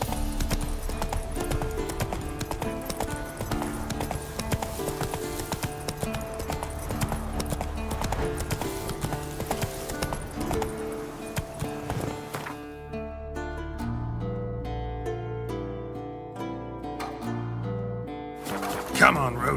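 Hooves of Roach, the horse in The Witcher video game, trotting in a rhythmic clip-clop that sits under loud game music, with occasional voice.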